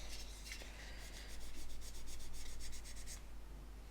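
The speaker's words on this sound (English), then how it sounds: "This buffing will remove the WD-40 residue." Close, faint buffing of painted plastic on an Airfix de Havilland Mosquito PR XVI model kit to clear WD-40 stains, a soft repeated rubbing swish in steady strokes, no talking.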